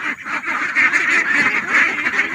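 Ducks quack continuously in a noisy flock, a dense overlapping chorus of nasal calls, close and fairly loud, with no talk.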